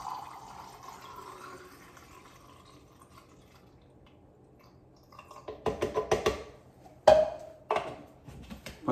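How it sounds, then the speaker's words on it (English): Film developer liquid pours into a developing tank in a brief gurgling stream after a quiet stretch, followed by a few sharp clicks and knocks nearby. "Take my developer, pour it in."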